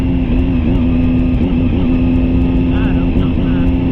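Motorcycle fitted with a malfunctioning Annitori quickshifter, its engine droning steadily and loudly with a constant tone and slight pitch wobble, plus wind rush, while riding.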